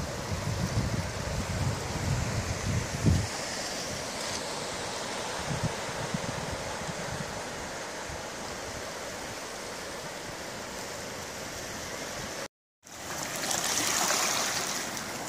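Tidal flood water rushes through a breach in Porlock marsh at high tide, a continuous, close, hissing stream of flowing water with a few bumps and a momentary cut near the end.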